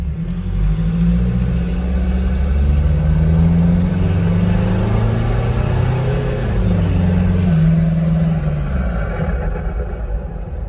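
A stock Nissan Patrol fitted with a big turbo, snorkel, large airbox and aftermarket exhaust cruises while warming up, its steady low engine drone continuous and close throughout with slight swells in load.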